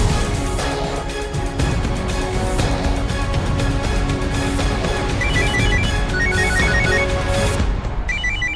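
A phone ringtone plays over a steady, loud musical melody, ringing continuously without being answered; a brief higher chiming pattern enters near the end.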